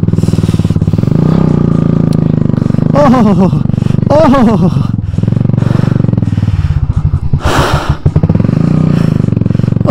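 A motorcycle rides over a rough, dangerous mountain road near Mussoorie, its engine droning and pulsing as it bumps and clatters along, while people talk and exclaim loudly over the ride.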